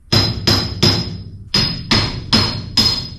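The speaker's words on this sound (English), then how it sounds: "I'm taking the axle out, the short side axle." A hammer striking the short side rear axle of a classic Toyota Land Cruiser during a rebuild, about eight loud close metallic blows in a fairly regular rhythm with a brief pause partway through, with no talking.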